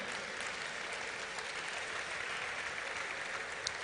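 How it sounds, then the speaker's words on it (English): Hall audience clapping for contest groups and individuals coming on stage, a continuous even patter of applause at a moderate, somewhat distant level. "Please clap for them."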